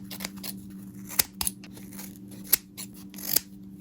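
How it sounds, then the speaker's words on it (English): Scissors snipping through a Bratz doll's synthetic hair, with three or four sharp, close clicks spaced apart over a faint steady hum, no voices. "And we're just gonna cut that like as short as we can."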